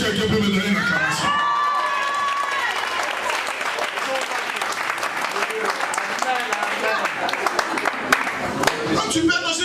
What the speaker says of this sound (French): Est-ce que quelqu'un peut me donner une acclamation?